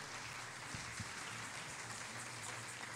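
A church congregation applauds steadily during a worship service, a dense continuous patter of many hands at moderate distance, with a low hum underneath and no clear speech.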